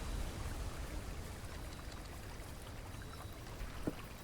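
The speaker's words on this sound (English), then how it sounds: "That is a very two-dimensional waterfall." A waterfall in the video game Blue Prince gives a steady, even rush of falling water that holds at a moderate level without break.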